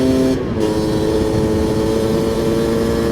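Loud, close, steady drone of a Honda 250R two-stroke engine with a brand new top end held at part throttle, its buzzing tone holding fairly even throughout.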